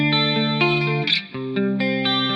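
Electric guitar through a subtle modulation pedal at a normal song setting, sustained chords and notes with a gentle wavering shimmer and a brief bright swell in the middle, clear and alone.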